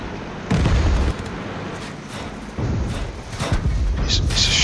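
In the tank video game, a Cruiser II tank on the Malinovka map fires its cannon and shells explode. Several heavy booms land at uneven intervals over rumbling engine and battle noise.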